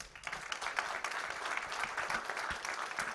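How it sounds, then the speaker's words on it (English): Audience applause for a conference panel, dense steady clapping filling the whole stretch at moderate loudness with no talk over it. "Please join me in applauding our panelists."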